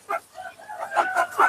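Backyard chickens at a biofloc fish pond cluck a few times in short, moderately close bursts, standing out against a quiet outdoor background.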